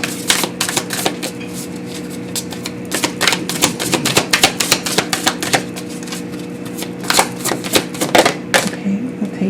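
A deck of tarot cards is shuffled and drawn, giving rapid, close crisp flicks and slaps in irregular bursts over a faint steady hum.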